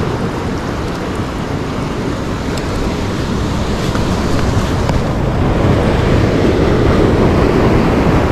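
Heavy sinking ocean waves crash and roar continuously along a rocky shore during a fishing outing, a loud, broad wash of surf that swells toward the end.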